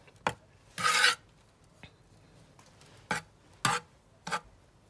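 Potting soil being mixed with eggshells, a few short scraping, gritty rubs in separate bursts, one longer scrape near the start, close up with quiet gaps between.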